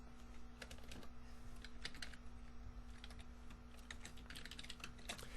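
Typing on a computer keyboard while writing Python code, a steady run of clicky keystrokes in irregular bursts over a constant low hum, close and moderately quiet, with no talking.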